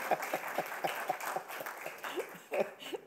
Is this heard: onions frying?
no